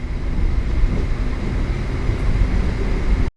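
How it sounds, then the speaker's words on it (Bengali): An Azimganj MEMU passenger train runs toward the Nasipur rail bridge, a loud, steady low rumble and rolling roar heard from on board that carries without a break and then cuts off abruptly. "ঠিক নসিপুর রেল ব্রিজের পথে ছুটে চলেছে ট্রেন"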